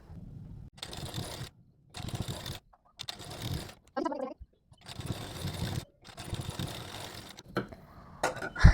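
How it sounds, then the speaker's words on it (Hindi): A sewing machine stitches two seams along a blouse belt in several bursts of whirring needle action separated by short pauses, close and clear, with brief handling sounds between runs. "जब बेल्ट के ऊपर हम लोग 2 सिलाई लगा देंगे उसके बाद"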